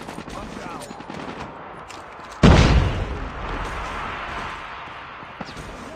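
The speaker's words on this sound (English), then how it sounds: "Grenade out!" A grenade blast in the shooter game Call of Duty Mobile, one sudden loud boom that decays over about a second, set against a steady bed of gunfire and game noise.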